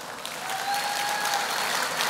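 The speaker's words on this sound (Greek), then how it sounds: "Σταθούμε με ακόμα ένα χειροκρότημα" Crowd applause at a Greek New Democracy pre-election campaign rally, a continuous dense wash of many hands clapping at steady volume, heard alone without talk.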